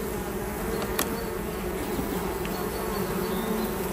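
Honeybees drone inside a crowded hive box as it is worked, a close, steady buzzing that never lets up, with a faint click or two and no voices.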